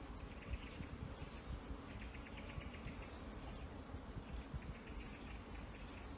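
Honeybees buzzing at an open-air museum apiary, a steady low hum of many insects with no talk, moderately quiet and continuous.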